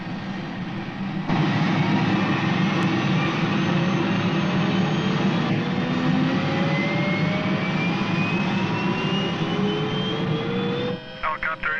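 A helicopter engine runs steadily at close range, a loud continuous drone with slowly shifting whine tones, heard from inside the aircraft during a 1979 departure, ending with a brief rattling change near the end.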